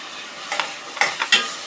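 Eggplant pieces soaked in salt water drop into a hot pan with curry leaves, giving a soft sizzle under a few quick scraping stirs, close and brief, with no talking.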